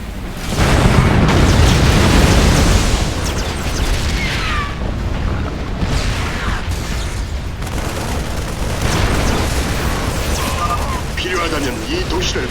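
Missile launches and heavy explosions in StarCraft II: Heart of the Swarm, during the Ultralisk evolution mission. A loud booming blast opens the sequence, followed by repeated rumbling bursts and crackles, with voices mixed in.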